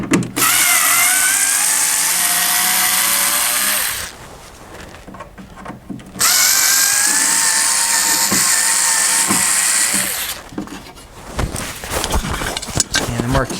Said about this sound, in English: So I'm going to kind of come in here and just pop these screws off.